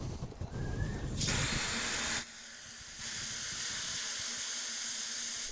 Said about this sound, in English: I'll flush all that hot water out of the hose line until it starts running cold